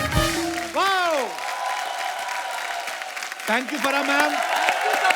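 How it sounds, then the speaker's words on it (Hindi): An audience on a comedy talk show applauds Farah and Raveena in a sustained, even wash of clapping. A voice talks through it, and a brief musical tone swells near the start. "एक बार फरा मैम और रवीना जी के लिए जोरदार तालियां।"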